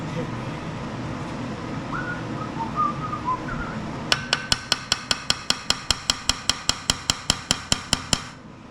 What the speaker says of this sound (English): Let me give it a little tap.